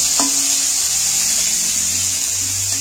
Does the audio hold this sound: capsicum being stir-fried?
yes